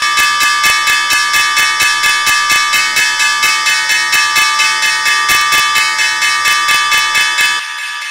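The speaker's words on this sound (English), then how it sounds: "we're going to pause for the opening bell. A new day of trading on Wall Street." Wall Street stock exchange opening bell ringing in a rapid, steady train of loud metallic strikes for about seven and a half seconds, bright and sustained, then stopping abruptly with only a low background hum left.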